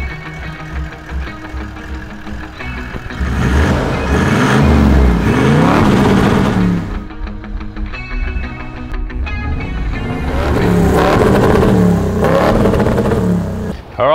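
A FLEXI79 4WD truck in race mode accelerates on gravel in two loud, revving surges with a rising whine, separated by a brief easing of the engine, with some voices underneath.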